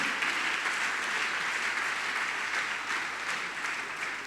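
An audience at a closing ceremony claps for a speaker: a dense, sustained burst of applause at fairly strong volume, evenly textured and easing slightly toward the end, with no talking over it.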